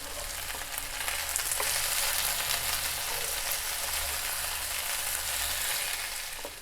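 Potato sabzi with green chillies stirred and sizzling in a pan, a continuous bright frying hiss with occasional scraping taps of the spoon, close and steady.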